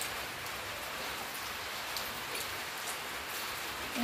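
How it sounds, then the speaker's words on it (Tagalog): Steady rain falls on surfaces outdoors as a soft, even hiss with scattered faint drop patters throughout, fairly quiet and with no voices. "Maulan."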